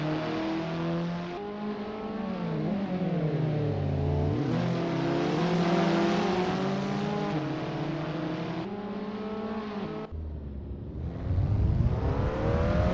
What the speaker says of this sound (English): The rumble of the engine